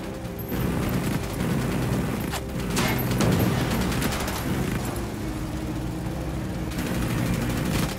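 Steady bursts of gunfire and explosions from the tactical shooter Ghost Recon Wildlands during a firefight, dense and loud over a continuous mechanical rumble, with no voices.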